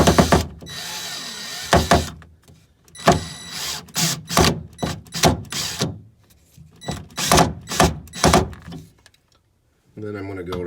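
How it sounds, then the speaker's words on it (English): A right angle drill slowly drives a screw into hardwood while a drawer rail is replaced on a mid-century modern Heywood Wakefield piece, giving repeated short whirring bursts with pauses between, close up, followed by brief speech at the end. "So I'm going to use the right angle drill and just go very slowly."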